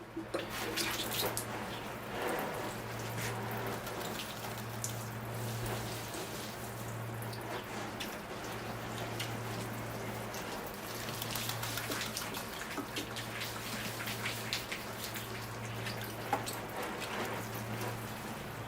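Water rinses the soil of potted baobab-style jade bonsai trees, a steady pattering spray like rain with drips, under a faint intermittent hum.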